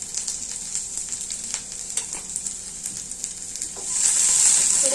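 Paneer pieces fry in a pan with a steady close sizzle and faint crackles, and a louder burst of hissing near the end.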